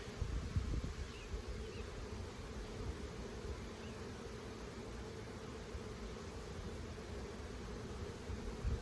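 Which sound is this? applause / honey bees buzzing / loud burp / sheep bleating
honey bees buzzing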